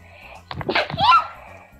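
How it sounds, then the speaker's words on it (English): One abrupt human sneeze comes through fairly close and loud, with a short breathy onset and a sharp burst that quickly fades. "That was a sneeze."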